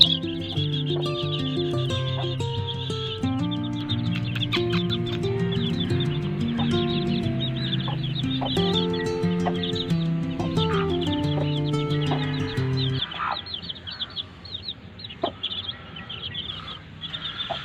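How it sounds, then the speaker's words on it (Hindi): Shamo cross Java chickens and chicks in a cage, clucking and calling continuously, up close, with thin chick peeps mixed in and a brief quieter stretch near the end. "अलावा इस केज में भी मेरे पास चूजे हैं, मैं आपको दिखाता हूँ यार।"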